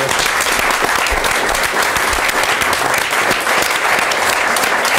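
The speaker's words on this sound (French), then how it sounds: "Là, je crois qu'on peut l'applaudir comme un mérite." Steady applause from an audience at a talk about the Yukon Quest sled dog race, loud and continuous dense clapping with no voices over it.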